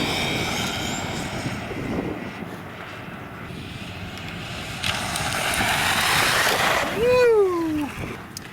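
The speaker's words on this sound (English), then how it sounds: "this is running a 2-cell with a 5400 kV brushless motor, and we'll just see what it gets." RC car with a 5400 kV brushless motor on a 2-cell battery, tires worn from street running, whines past outdoors on a speed run, a steady motor drone rising to a loud, pitch-sliding whine as it passes near, with wind noise.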